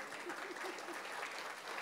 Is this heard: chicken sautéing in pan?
no